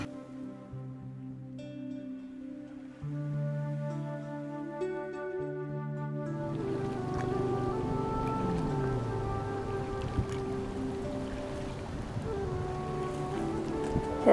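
A kayak sets out on the water from Antelope Point Marina on Lake Powell, with soft steady water sounds and paddle splashes. Tonal hums run underneath and grow fuller partway through.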